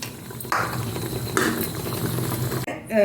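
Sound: curry boiling in a pot

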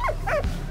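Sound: dog barking in the video game Valiant Hearts

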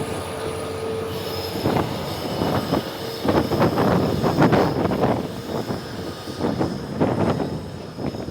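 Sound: train passing

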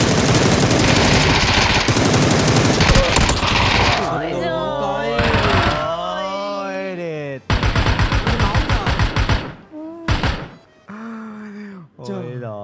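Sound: gunfire in the video game PUBG

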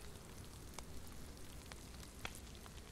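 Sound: rain falling in the video game DayZ

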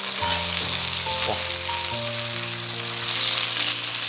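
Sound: lionfish frying in oil in a wok

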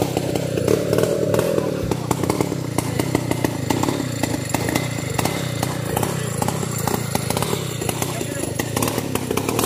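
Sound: chainsaw cutting small wood in a field

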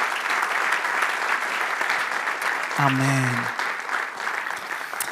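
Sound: congregation applauding

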